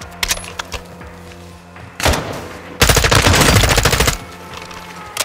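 Rapid automatic gunfire in Call of Duty: Modern Warfare II, loud and close, with scattered single shots first, then a short burst, then a sustained dense volley of about a second and a half that stops abruptly.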